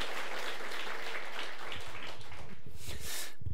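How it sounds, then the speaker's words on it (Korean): A church congregation bursts into steady encouraging applause after a choir's hymn, a continuous wash of many hands clapping at close range, with some low murmuring voices mixed in partway through. "더 잘하실 수 있도록 격려의 박수 한번."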